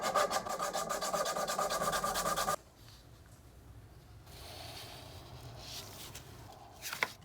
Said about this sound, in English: Let's sand off some of this raised edge to make it a little even first.